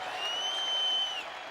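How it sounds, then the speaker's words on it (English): Crowd noise in a basketball arena during a college game, a steady wash of cheering and applause with a sustained whistle-like tone riding over it for about a second. "And here is the crowd."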